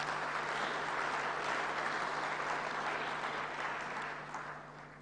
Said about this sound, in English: Please join me in giving another big round of applause to them.